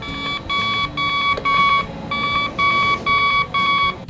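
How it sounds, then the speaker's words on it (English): The Jonard CM-17 cable toner transmits its tone on a cable's center pin: a loud warbling electronic beep pulsing in regular bursts of about half a second, close and alone. "The unit will now transmit tone on the center pin of the cable."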